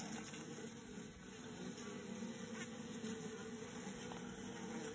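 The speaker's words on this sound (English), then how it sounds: "I'm showing you the activity of these bees chasing these beetles." Honeybees at a hive busily chase small hive beetles, producing a continuous, quiet, even buzzing hum with many wings blending together.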